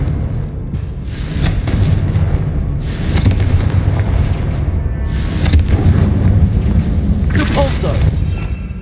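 Confringo spell explosions in Hogwarts Legacy, a few booming blasts over a rumbling game soundscape, with a voice speaking at times.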